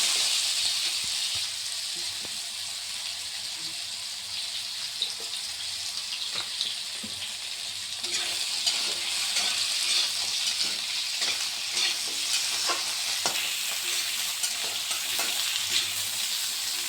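Diced potatoes fry in a pan of oil for a fish curry, giving a continuous bright sizzle with occasional scraping and stirring clicks, growing slightly louder midway.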